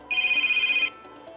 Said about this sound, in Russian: Звонок как нельзя кстати, Иван